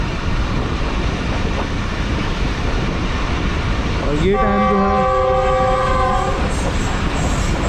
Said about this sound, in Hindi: 11:04 पर हमारी ट्रेन जो है वो अप्रोच बना रही है लांडी जंक्शन रेलवे स्टेशन पर